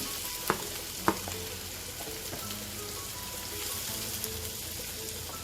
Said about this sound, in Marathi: आता आपण बटाट्याच्या फोडी घालू